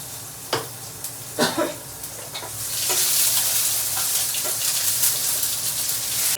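Tomatoes dropped into a hot pan on an induction cooktop after a chilli tempering, first a few clattering stirs, then a steady loud sizzle that swells and holds to the end, close by with no talk.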